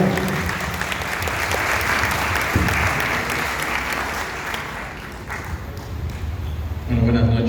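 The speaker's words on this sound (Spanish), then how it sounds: "Un aplauso." A large audience applauds at an evening lecture, dense steady clapping filling the room, with a voice speaking over it near the end.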